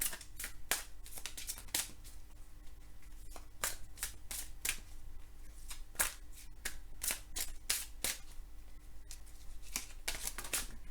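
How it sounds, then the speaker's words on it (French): Tarot cards being shuffled by hand, a quick run of crisp riffling snaps and soft slaps repeating in uneven bursts, close and fairly quiet with no talking. "je bats les cartes et je prends uniquement celles qui sautent"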